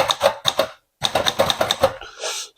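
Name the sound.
typing on a Remington Envoy III typewriter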